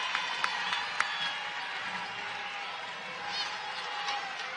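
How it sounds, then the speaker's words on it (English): Crowd noise rises at the Lloyd Noble Center during a women's college basketball game between Oklahoma and Baylor, a broad, moderately loud roar with scattered claps and sneaker squeaks. A commentator talks over it. "Crowd starting to get into it at the Lloyd Noble Center as the Sooners fight back."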